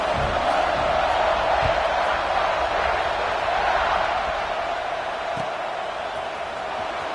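A large video game stadium crowd at a Michigan versus Ohio State college football game roars steadily throughout, a continuous wash of cheering and noise that barely rises or falls.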